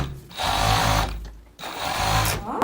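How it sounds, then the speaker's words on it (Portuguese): A sewing machine stitches a fleece sweatshirt seam in two close, steady whirring runs, separated by a brief pause. "continuando a costura até o final da barra"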